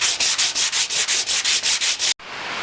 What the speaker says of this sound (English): And then we got to get the sanding.